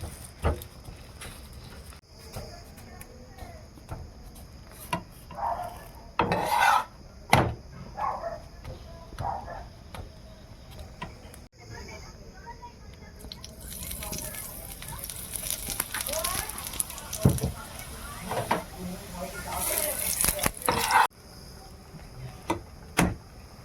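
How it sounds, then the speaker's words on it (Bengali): Pea-stuffed parathas fry in a pan with very little oil, pressed down as they cook. A soft sizzle swells into a bright, steady hiss midway, broken by clinks and handling noises near by. "খুব অল্প তেলে আমি পরোটাগুলো ভাজব"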